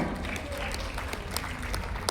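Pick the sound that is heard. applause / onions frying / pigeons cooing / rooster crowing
applause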